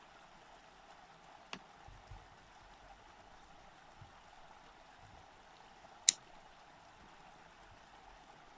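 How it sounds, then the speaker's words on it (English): A steady, soft wash of flowing creek water fills the background, broken by a couple of faint clicks and a brief sharp tick. "In my noisy creek."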